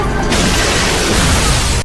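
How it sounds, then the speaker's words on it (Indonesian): Film explosion, a loud sudden blast that erupts into a dense roaring rumble and sustains for over a second, close and full, with no speech. "tiba-tiba terjadi ledakan."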